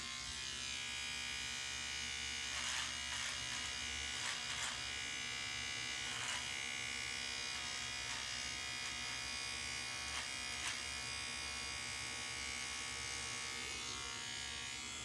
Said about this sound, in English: I'm just going to use my old Philips Norelco trimmer just to help cut a line.